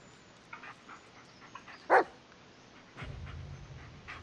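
A single sharp dog bark in the video game Blair Witch rings out amid faint yips and panting, followed by a low steady rumble.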